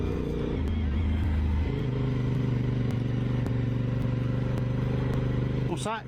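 A Honda SP1 superbike engine riding around a roundabout: a steady, close, loud motorcycle drone with a shift in pitch partway through, a constant throaty hum and a brief rev near the end.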